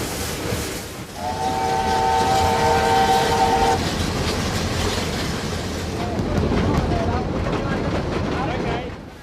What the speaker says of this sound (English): two giants of broad gauge and standard gauge steaming together